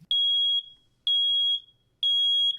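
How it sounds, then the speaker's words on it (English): A household smoke alarm sounds three sharp, piercing electronic beeps, each about half a second long and evenly spaced, clear and alone in a quiet room. "the alarm will beep."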